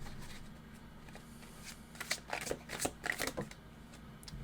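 Tarot cards being shuffled by hand in a few quick bursts of riffling and slapping, close and crisp over a low background hum, with no talking.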